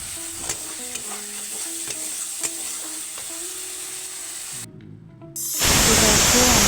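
Spices being stirred and fried in a pan, a steady sizzle broken by repeated scrapes of a spoon, with a louder hiss swelling near the end.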